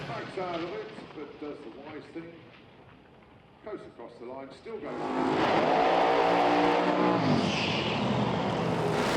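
A Pro Mod drag racing car at a British Drag Racing Championship round launches with a sudden loud, sustained roar that swells midway and holds to the end, following a stretch of commentary.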